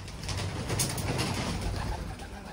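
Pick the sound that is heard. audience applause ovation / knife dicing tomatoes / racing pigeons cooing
racing pigeons cooing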